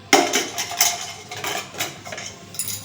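Custard drink premix topped with almonds and pistachios being spooned and poured into a jar, with a quick run of close clinks and taps of utensil against glass, about a dozen light knocks spread over a few seconds.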